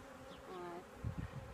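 Honey bees hum around a hive during spring maintenance, a close, steady buzz with a rising tone from one bee passing near, and no talking.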